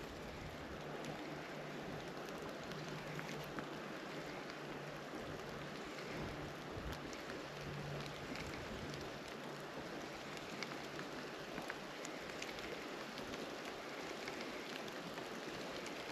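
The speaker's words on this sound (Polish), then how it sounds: "I deszcz się nasila." Steady hiss of rain falling onto the Wda river, an even wash of fine drops that persists throughout with no voices.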